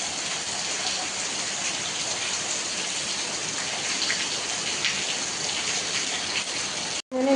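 Heavy rain pours down steadily in a dense, even hiss that holds for several seconds, cuts out for an instant, then resumes.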